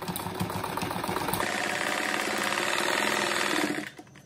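A sewing machine runs steadily for almost four seconds, stitching a reinforced seam on a simple fabric cat-shaped door stop, a loud continuous whir that stops abruptly near the end.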